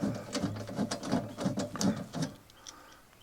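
Screws with 3/8 hex heads being backed out of a transfer panel cover, giving a quick run of close, rhythmic ratcheting clicks that stops after a couple of seconds.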